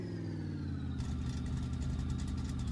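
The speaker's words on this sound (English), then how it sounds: "Wonder how high she revs." A Chevy-powered Mopar car's engine idles with a steady rumble, then revs up sharply and holds at higher RPM with a rough, pulsing exhaust, close and loud.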